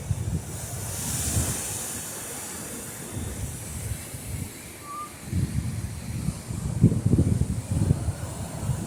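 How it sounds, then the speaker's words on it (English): Heavy ocean surf breaks close by in deep water, sending repeated low rumbling crashes over a constant windy hiss, with the loudest wave impacts near the end. "When you're this close to the waves breaking in this much water, it just really clarifies the power of the ocean."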